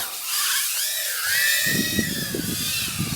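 A tiny Mobula 7 brushless micro drone on 2S batteries zips around nearby, its motors giving a high, whining whirr that swoops in pitch as it speeds and turns, with no voices.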